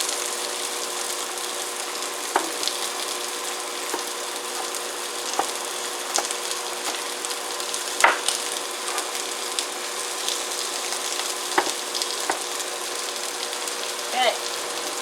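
Kung pao chicken frying on a home stove gives a faint, steady sizzle with scattered light clinks and taps from stirring throughout.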